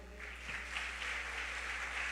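A church congregation applauds during a sermon, a soft, continuous patter of many hands clapping over a low steady hum, fairly faint and without speech.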